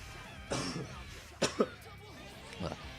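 A person coughs several times in quick bursts, close to the listener, with a brief pause before one last smaller cough.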